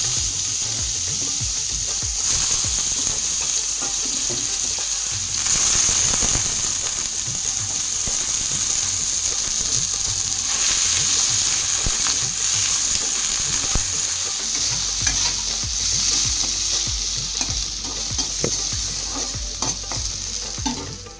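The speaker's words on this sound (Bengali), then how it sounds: "এখানে আছে একটু আলু ভাজা করব" Potatoes frying in a kadai give a steady, close sizzle throughout, with intermittent scraping and clicking of stirring against the pan and no talk.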